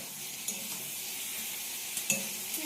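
Chicken curry with spices fries in a pan, a steady soft sizzle broken by a few light knocks and scrapes of a spoon stirring against the metal, no speech.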